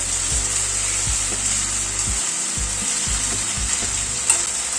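Chopped tomatoes stirred into frying chicken in a pan for a Gandharaj chicken curry, giving a steady sizzle with repeated scraping strokes of the spoon at a slow, even rhythm, close and clear, with no speech.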